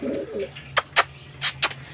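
Pigeons give a soft coo near the start, followed by four short, sharp bursts that sound like wing flaps or scuffles, over a low background hum.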